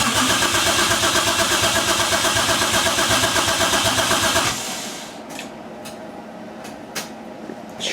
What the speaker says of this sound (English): It cranks a little better than it was before, actually.